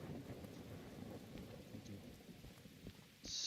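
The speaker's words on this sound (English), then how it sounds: "we have a thunderstorm" Rain from a thunderstorm in the video game Derail Valley, a faint steady patter with low rumbling underneath, continuous and distant-sounding, no voices.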